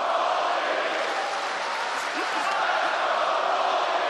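A UFC Fight Night arena crowd during the Colby Covington vs Joaquin Buckley bout roars and cheers in a steady, distant wash of noise, with a commentator talking over it.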